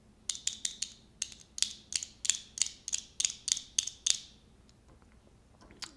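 Sanwa arcade stick buttons are tapped about a dozen times in quick bursts, each a crisp plastic click, close and fairly quiet, over a faint background hum.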